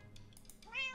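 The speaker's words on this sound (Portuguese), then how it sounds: "Eu miei e o cara tá vindo." A cat meow from the Minecraft block hunt hide-and-seek game, one short, clear in-game mew standing out over soft background noise.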